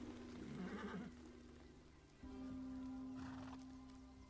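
A horse ridden in Far Cry 6 whinnies once near the start and again around the three-second mark, over a steady tonal game background with faint patter like rain.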